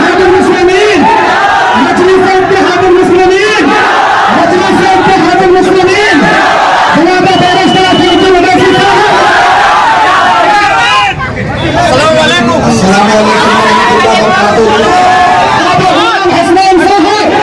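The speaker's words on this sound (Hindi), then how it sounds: "असदुद्दीन ओवैसी को देखने के लिए देखिए बड़ी भीड़" A large crowd gathers in Bihar for Asaduddin Owaisi's arrival, a dense, loud, continuous roar of shouting and chanting voices with steady babble that barely dips before swelling again.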